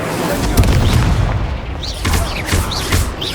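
An Incendio fire spell cast during a Hogwarts Legacy duel: loud booming blasts and crackling bursts repeat over the battle noise, with brief voice-like shouts mixed in.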